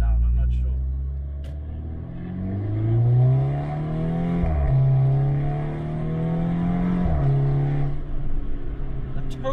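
VW Golf 6 R turbocharged engine heard from inside the car with the window down, rising and falling rumble as it accelerates through gears, with two sharp dips between pulls and talk over it.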